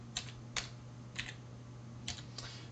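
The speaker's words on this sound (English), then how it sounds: "we'll just have to type its file name this way" Keys tapped on a computer keyboard while a file name is entered, a handful of quick, distinct clicks in small bursts over a steady low hum, fairly close and moderately quiet.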